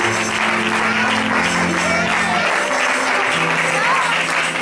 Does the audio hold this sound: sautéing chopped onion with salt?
no